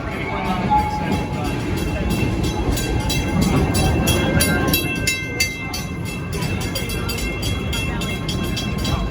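Rumbling and clattering of the Serengeti Express amusement park train rolling along in Tampa, steady throughout, with a voice talking over it.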